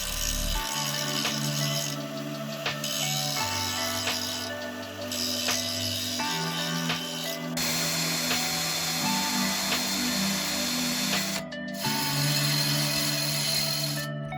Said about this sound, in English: While we were drilling, we did have a few casualties, a few broken drill bits